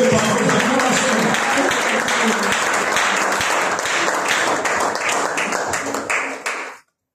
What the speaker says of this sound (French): Honorez l'homme de Dieu par vos acclamations.